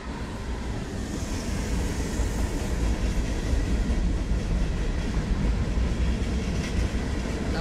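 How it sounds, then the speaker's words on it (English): A double-decker train rolls steadily past close by, a continuous loud rumble of wheels and cars with faint rail clatter throughout, no voices. "Papa gets to watch a train."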